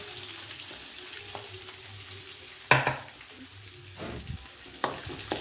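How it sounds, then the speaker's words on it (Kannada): Onions frying in a pan for a tomato bath dish, a soft sizzle under intermittent scraping stirs, with a few sharper knocks and rattles of the utensil against the pan. "ಇದನ್ನು ಚೆನ್ನಾಗಿ ಫ್ರೈ ಮಾಡ್ಕೊಳ್ಳಿ"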